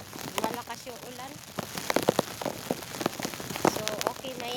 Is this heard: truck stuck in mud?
no